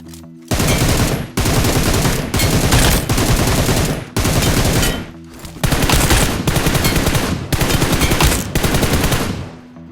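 Bursts of automatic gunfire in PUBG Mobile ring out loud and close, a rapid string of long volleys split by short pauses as weapons are quickly swapped.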